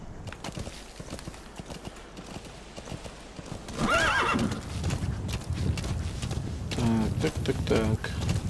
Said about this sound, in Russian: Поехали на лошади.